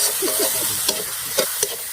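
Snails and mussels stir-fry in a pan of cooked-down masala. A brief, steady sizzle is broken by several scraping stirs and small clinks close by.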